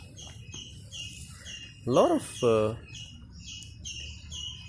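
Birds calling and chirping in a garden in Goa, repeated high tweets running through the scene beside a brief pigeon-like coo, with a person talking over them.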